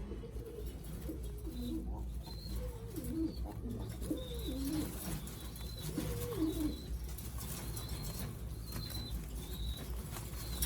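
Domestic loft pigeons coo in soft, low, rolling phrases, several birds overlapping close by, with faint higher chirps and a steady background murmur throughout.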